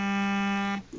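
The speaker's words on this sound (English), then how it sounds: "Sorry, that was my alarm" A phone alarm gives a loud, steady buzzing tone that holds for most of a second and then cuts off abruptly, leaving near silence.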